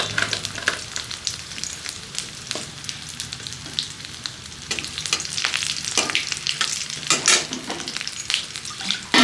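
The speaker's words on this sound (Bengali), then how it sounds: "এটার মধ্যে কাঁচা লঙ্কা ফোড়ন দিচ্ছি, তার মধ্যে কালো জিরা দিব, কালো জিরা ফোড়ন দিচ্ছি" Green chillies and nigella seeds tempering in hot oil, a loud continuous crackling sizzle up close with occasional stirring clinks throughout.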